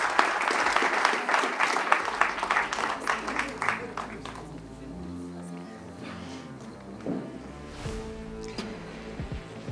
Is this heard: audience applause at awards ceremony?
yes